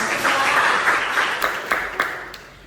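A class performs a rhythmic clapping routine, a dense burst of group clapping that breaks into a few sharp, distinct synchronized claps before trailing off.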